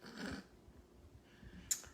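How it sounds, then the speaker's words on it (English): A dog breathes heavily and snorts close by in a quiet room, soft breaths with one short sharp sniff near the end. "Even my dog Connor is taking a deep breath"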